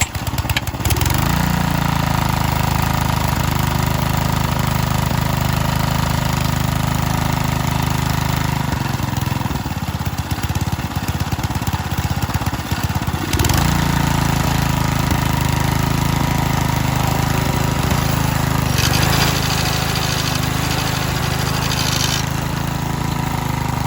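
Power Trim edger with a 3.5 Briggs engine, recently repaired with a newer carburetor and fuel tank, starts and then runs loudly and steadily at close range, its rough droning note shifting briefly partway through before settling again.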